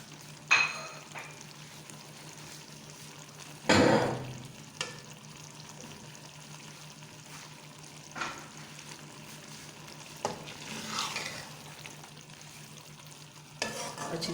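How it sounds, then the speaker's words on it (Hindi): Ridge gourd and lentils frying in a pan with green chilies, giving a steady soft sizzle broken by occasional sharp scrapes and clinks as a utensil stirs against the pan, with no talk. "अच्छी तरह हम इसको अब भून लेंगे।"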